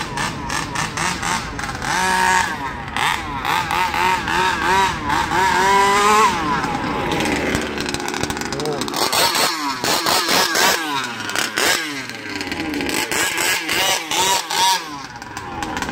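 A gasoline-powered radio-controlled car on a Busan track screams loudly through repeated high revving, rising and falling sweeps as it brakes and accelerates through corners over sixteen seconds, with no voices.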